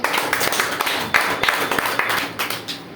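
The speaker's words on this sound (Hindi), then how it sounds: "एक बार जोरदार तालियां" A loud round of applause from an audience at a business plan presentation, dense clapping filling the whole stretch with a few sharper claps rising above the wash.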